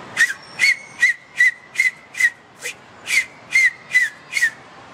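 Short finger-and-tongue whistles repeat about ten times in a steady rhythm, each a sharp high chirp with a breathy hiss, close and clear with no talking.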